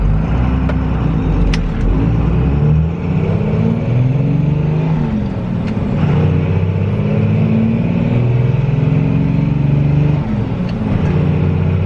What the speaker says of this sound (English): We're revving to 3 grand, guys. That's what I'm shifting.